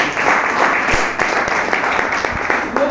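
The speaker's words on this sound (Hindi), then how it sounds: "बजाओ ताली।" An audience at a team training session claps along in a brisk, fairly loud burst, with a few sharper individual claps standing out from the steady patter before it thins toward the end.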